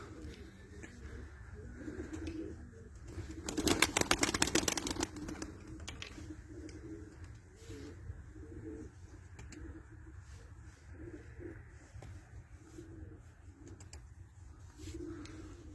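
Soft low domestic pigeon coos repeat steadily over a murky background hum inside a coop in Istanbul, with a brief burst of flapping or rustling noise near the start.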